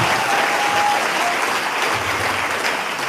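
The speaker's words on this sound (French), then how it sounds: "Est-ce qu'on peut acclamer pour le Seigneur Jésus?" Church congregation applauding for Jesus during a service, with dense, sustained clapping from many hands filling the space evenly, loud and continuous for the whole stretch.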